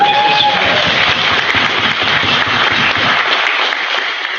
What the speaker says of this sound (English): How about a round of applause for our country?